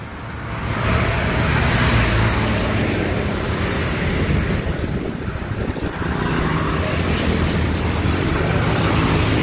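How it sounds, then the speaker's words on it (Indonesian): Busy road traffic of private cars and motorbikes heading to work, a steady, loud wash of passing engines and tyre noise with no clear gaps. "Ramai kendaraan pribadi"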